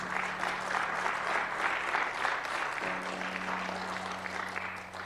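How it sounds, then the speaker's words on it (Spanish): Congregation in a church giving a sustained round of applause, steady dense clapping filling the room for several seconds with a low organ or keyboard tone held underneath. "¿Cuántos dan un fuerte aplauso al Señor por esto?"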